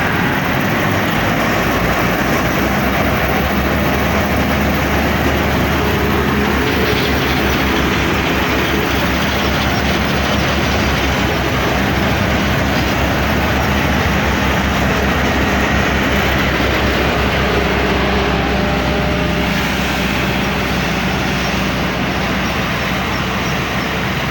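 A Massey Ferguson 186 combine harvester, threshing buckwheat with a worn auger, running with a loud, steady engine drone and mechanical rumble that stays close and unbroken throughout.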